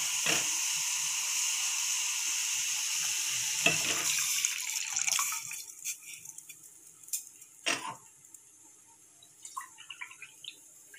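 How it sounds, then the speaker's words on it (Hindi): Two cups of milk for tea heating in a pot, giving a steady close sizzling, bubbling hiss that fades after about five seconds, leaving scattered faint clinks and stirring noises. "तो 2 कप चाय हमारा उबल रही है, मतलब दूध उबल रही है।"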